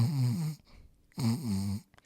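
A voice imitates snoring with two long, loud, rasping snore sounds close to the mic, separated by a short quiet gap.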